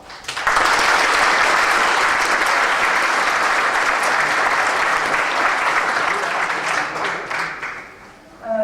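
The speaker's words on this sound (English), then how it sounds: "Please give her a warm applause." Conference audience gives loud, sustained applause for a talk on deviants and society, a dense even roar of clapping that swells in and thins out at the very end.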